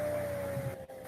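A laptop computer fan gives off a steady whirring hum with a thin sustained tone, close and constant, briefly dipping near the end.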